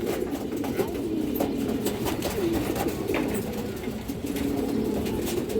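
Pigeons from a Bangladeshi fancy-breed pigeon collection coo softly and repeatedly, a low rolling murmur close by with faint background clatter and no speech.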